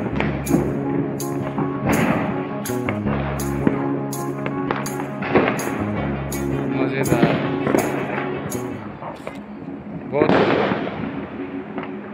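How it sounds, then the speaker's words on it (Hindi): Diwali firecrackers burst in a rapid, repeated string of sharp cracks and thumps, close and loud, with a person talking excitedly over the bangs throughout. "ये फूट रहा बम, वाह वो फूट रहा बम"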